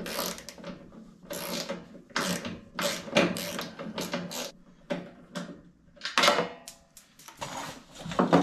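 A hand ratchet clicks in quick uneven runs while loosening 10 mm exhaust bolts on a Honda Talon 1000R side-by-side, the sharp pawl ticks close up and alone.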